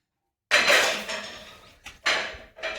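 Everyday metal kitchen pots and utensils are lifted out and set down during a village house cleaning, three separate clattering clanks with ringing decay, close and fairly loud, after a moment of silence.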